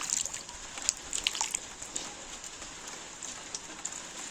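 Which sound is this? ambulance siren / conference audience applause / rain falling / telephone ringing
rain falling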